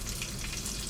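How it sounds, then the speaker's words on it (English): Orchid unsalted butter sizzles in a frying pan, a brief, steady, close hiss of bubbling fat with no voices. "So here's my butter. I use the Orchid unsalted."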